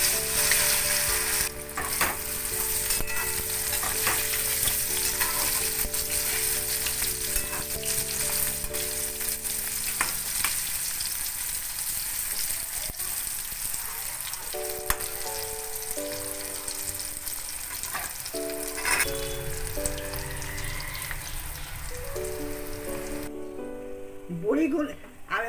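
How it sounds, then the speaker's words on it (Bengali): Chickpea-lentil muithya dumplings frying in hot oil crackle and sizzle continuously, with occasional stirring and a steady tonal hum underneath throughout. "এতে আমি ওই মুইঠাগুলো যে কেটে রেখেছিলাম দিয়ে দিচ্ছি,"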